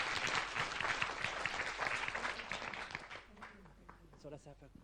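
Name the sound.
audience applause for the presenters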